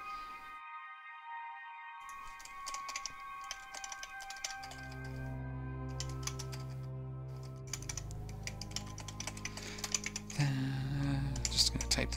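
Computer keyboard typing during an EVE Online session, a run of quick, close key clicks over steady game music and ambient tones, with a few louder taps toward the end.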